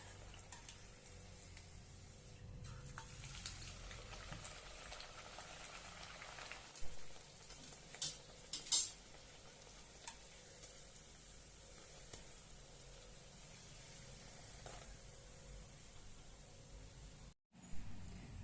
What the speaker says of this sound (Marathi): अशा पद्धतीने सर्व पुरी तळून घेऊया आपण